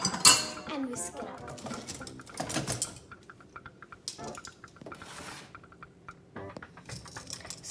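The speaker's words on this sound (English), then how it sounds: "And whisk it up" A sugar mixture for coconut macaroons is whisked in a bowl, producing close, irregular metallic clinks and scraping rattles in uneven bursts, with quieter gaps between.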